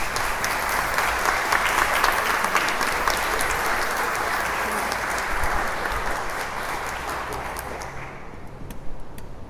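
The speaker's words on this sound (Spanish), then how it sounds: "pido un aplauso para recibir al maestro Jorge" A church audience in the Barrio de San Juan claps steadily to welcome a lecturer, a dense, sustained round of applause that carries on for several seconds before thinning out near the end.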